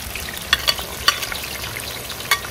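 Garlic, chile and onion frying in oil on a disco, a steady soft sizzle with a few sharp stirring clicks and pops close by.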